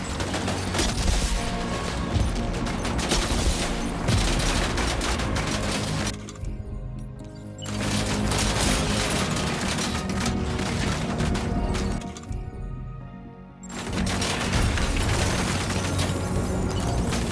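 Sustained heavy gunfire in the Death Stranding 2 video game, dense crackling bursts filling most of the stretch with two brief lulls, loud and close.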